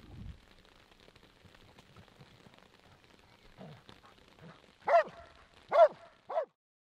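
A dog barks during protection dog training: three sharp, loud barks close together near the end, after a quiet stretch with faint scuffing and movement.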